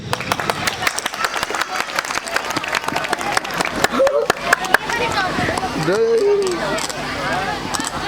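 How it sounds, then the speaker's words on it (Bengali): Audience applause fills a school prize-giving and cultural ceremony at Shirin Awlad Model School, a dense patter of many hands clapping for several seconds, thinning as a voice begins speaking over the hall. "আমরা একটা করতালি আশা করছি।"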